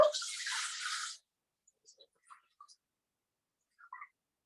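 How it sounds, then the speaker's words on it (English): Water pours steadily into a mixing bowl for about a second and then stops, followed by a few faint scattered clicks and drips in near silence. "I'm going to pop in my 900 grams of water."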